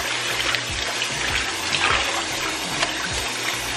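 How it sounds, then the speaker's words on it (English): Reusable grocery bags being washed by hand in water with soda, continuous close sloshing and splashing with soft dribbles, no talking. "I put them back in the water, some more soda."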